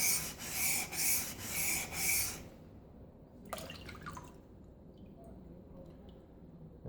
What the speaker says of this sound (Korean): 220번으로 연마하니까 금방 울퉁불퉁했던 부분 다 없어지고